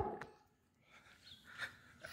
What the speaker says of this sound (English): Look at those dogs.